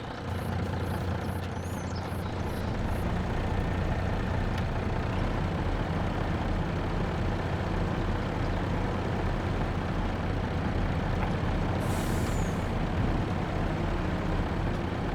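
A dump truck idles at a pond-digging landscaping site, warming up with a steady low engine rumble throughout and a brief air brake hiss near the end.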